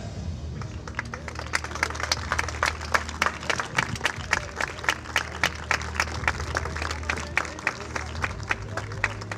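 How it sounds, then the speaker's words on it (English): Steady applause from a crowd at the European Youth Cup recurve archery finals in Sion, many hands clapping in a continuous rhythmic patter, with a few louder claps standing out. "Please welcome and applaud the judge, Shalabi Ringa, Bharat Sweet, Marco Busman,"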